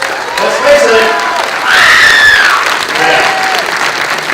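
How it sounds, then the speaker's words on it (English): An audience at a film Q&A evening in Brisbane applauds loudly and steadily, with cheers and whoops rising over the clapping throughout. "a really big round of applause for Mr. Christian Fletcher for putting this on"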